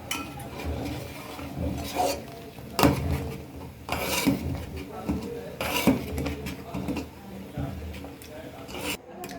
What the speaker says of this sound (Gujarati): હવે આપણે આમાં જે ક્રશ કરેલી બદામ હતી તે ઉમેરી દઈશું। હવે તેને મિક્સ કરી દઈશું।